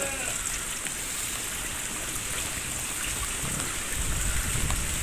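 Heavy rain falls over a rural village on an afternoon, a steady broadband wash of water close by, continuous and unbroken, with no talking.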